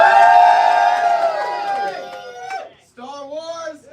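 Audience at a live comedy debate show cheering and whooping loudly, a sustained roar of many voices that fades out, then a second short burst of shouts.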